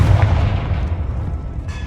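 A fiery Confringo explosion spell bursts from a wand in the Hogwarts Legacy video game, a single loud booming blast with a rumbling tail that fades over a second or two, no voices.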